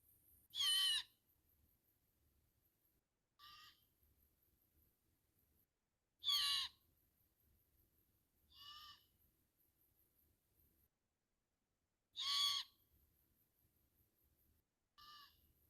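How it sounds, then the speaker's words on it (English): Young owls giving begging calls: six harsh, raspy screeches spaced a few seconds apart, alternating between louder and softer calls against a near-silent background. "The babies have a begging call that they do"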